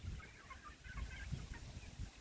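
Bantam chickens and roosters in a backyard flock, their soft clucks and calls rising over a low, rumbling outdoor background, faint and somewhat distant, with no speech.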